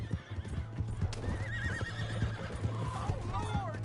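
A horse in the Red Dead Redemption 2 video game gives a wavering neigh over a steady rhythmic clip-clop of hooves, fairly quiet, with voices talking in the background.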